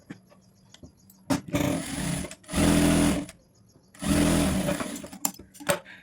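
Sewing machine stitching a halter neck for a boutique garment, running in two longer bursts with short clicks and pauses between them, close and fairly loud, with no voice.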